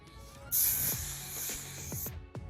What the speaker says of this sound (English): And then, of course, I spray it